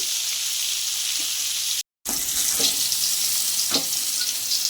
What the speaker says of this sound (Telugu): హై ఫ్లేమ్ మీద వేయించుకోండి.